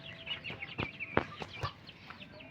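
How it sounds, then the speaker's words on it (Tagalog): Several short clucks from a hen and her chicks, a mix of lower hen calls and higher peeps, scattered irregularly at moderate distance with no talking. "Sisiw. Yan po yan, oh. Inahin po yan."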